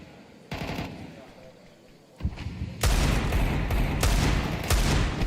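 Gunfire in Counter-Strike 2 during a professional match at the IEM Cologne Major, with bursts of rapid shots that start faint and swell into loud, dense sustained firing.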